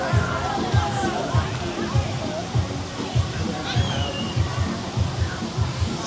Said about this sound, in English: Oh, that is a lazy river.